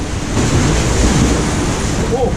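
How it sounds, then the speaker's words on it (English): A small water splash on an amusement park ride at Heide Park, a steady rushing spray of water that keeps up for about two seconds, fairly loud and close, with wind buffeting the mic and no clear talk. "Oh, I got a bit of a splash there for a tiny drop."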